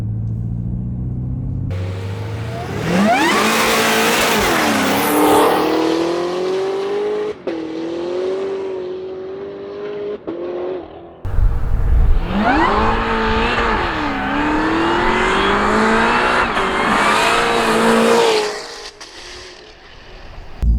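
A 1100-wheel-horsepower Cadillac CTS-V3 race car engine revving hard, loud rising and falling roars in two long pulls with a brief drop between, close and alone with no talk.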